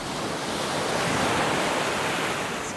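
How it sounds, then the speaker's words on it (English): Ocean waves break steadily on a Florida beach at sunset, a continuous loud wash of surf with some wind noise and no voices. "These guys are not afraid of the waves."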